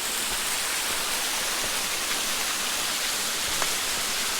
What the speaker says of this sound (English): I got this beautiful waterfall to look at and listen to all night.